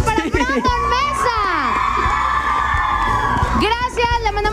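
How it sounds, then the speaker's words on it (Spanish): A television birthday show fills with fans shouting, whooping and cheering, a dense crowd roar with high yells swelling loudly in the middle. A voice talks over the crowd at the start and end. "Y el grito de los fans para Brandon Mesa."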